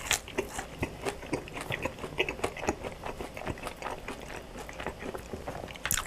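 Crunchy bites and chewing of McDonald's fries dipped in sweet chili sauce, close and fairly loud, with irregular crisp crunches over about six seconds and no talking.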